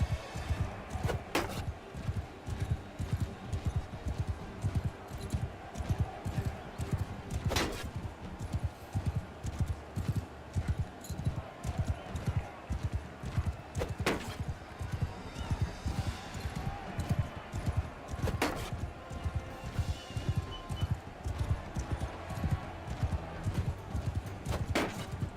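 Horse hooves clip-clopping in the medieval battle game Mount & Blade II Bannerlord, a rapid steady galloping rhythm throughout, with occasional sharper thuds.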